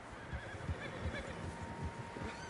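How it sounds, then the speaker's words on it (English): Horses whinny and neigh in the Red Dead Redemption 2 game world, several calls close together over soft hoof clops and ambient outdoor noise. "Horses, quite a few of them."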